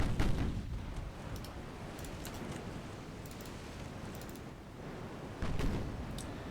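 Distant naval guns firing in Ultimate Admiral Dreadnoughts, a few heavy booms at the start and end with scattered sharp reports and a rumbling wash in between, fairly faint.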